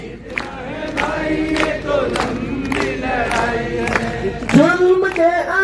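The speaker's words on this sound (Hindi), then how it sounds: "अब मैं चाहता हूं आप जनगीत के साथ मेरे साथ जुड़िए और तालियों के ताल के साथ जुड़िए।" A crowd at a public gathering in Uttarakhand claps in a steady beat along with a sung folk anthem, the rhythmic hand claps ringing out under loud, close singing voices.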